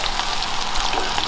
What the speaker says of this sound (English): Finish frying up all the catfish nuggets